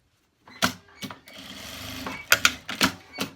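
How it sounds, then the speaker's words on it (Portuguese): A sewing machine stitches a seam on a sleeveless tank-top blouse, running in a steady whirring burst between sharp mechanical clacks and thumps, close and fairly loud with no talking. "vamos fazer uma costurinha aqui já pra ajudar a gente na hora do pesponto dessa peça"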